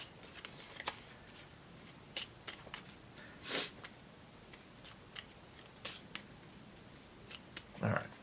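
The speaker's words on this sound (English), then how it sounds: "So I shuffle these back in first" Board game cards from Cthulhu: Death May Die being shuffled back into a deck at the end of a turn, giving a string of short, crisp riffling flicks and snaps close by at a tabletop, with a few louder bursts spread across the stretch.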